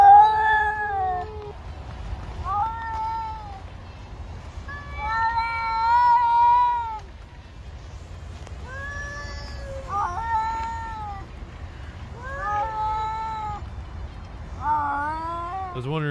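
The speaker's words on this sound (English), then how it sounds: "I was wondering if I could rile up my cats." Several agitated house cats trade yowls and meows in close range, drawn-out wavering cries arriving in irregular bursts with short gaps between them.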